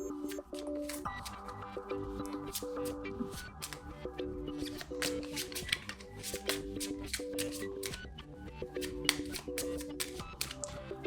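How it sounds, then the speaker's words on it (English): Rapid papery riffling and snapping of cards in repeated bursts, close and crisp, with faint background music throughout. "Now shuffle these cards."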